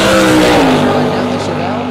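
A drag race car, a Chevelle, roaring down the strip, a loud sustained engine drone with a falling pitch as it passes, under an announcer's talk.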